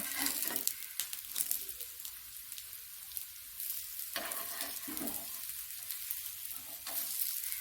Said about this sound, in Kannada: ಈ ಥರ ಒಂದೊಂದನ್ನೇ ಈ ಥರ ಫ್ರೈ ಮಾಡಿ